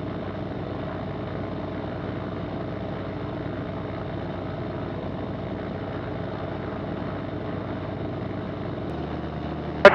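A Zenith STOL light aircraft's propeller engine drones steadily and loudly at close range as it powers up for takeoff from a runway, then the sound drops sharply near the end.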